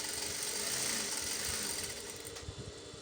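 Sewing machine running a straight seam along aligned fabric edges for a kaftan maxi dress, a steady close mechanical whir with fast stitching pulses throughout, easing slightly toward the end.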